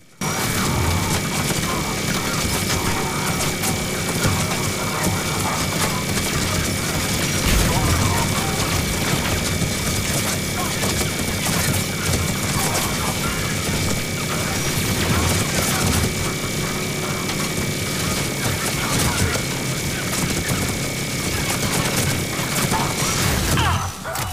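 Rapid, dense gunfire from the Reegar weapon in the Mass Effect 3 video game roars without pause for over twenty seconds, loud and continuous with crashing impacts layered through the mix.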